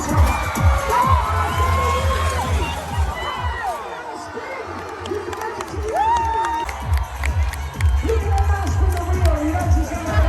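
A crowd with many children cheers and shouts at an outdoor soap box race, loud and continuous with whoops, scattered clapping and voices over a steady background rumble.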